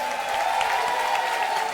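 An audience applauds a live band at a Brazilian stage show, a steady wash of clapping from a large crowd with a sustained tone ringing underneath, no pauses.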